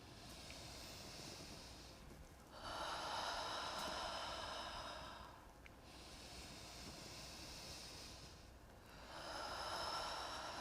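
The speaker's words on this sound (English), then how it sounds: "So you want to be able to hear yourself breathing." Slow, deep breathing close to the mic, with long airy inhales and exhales in an even rhythm and no talking.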